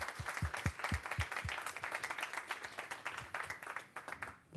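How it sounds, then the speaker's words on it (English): Steady applause from an audience, dense clapping throughout with a few louder individual claps standing out near the start. "Maybe a round of applause for Jesper and also from Flora."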